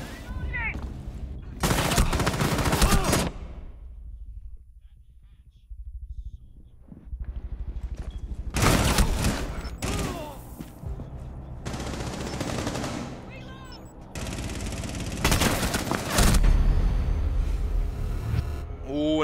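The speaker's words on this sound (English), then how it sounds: "Noisy unable to connect those final shots there like he wanted to" Rapid automatic gunfire from a competitive video game match in the Collective eSports League comes in several loud bursts, separated by quieter gaps with softer game sounds.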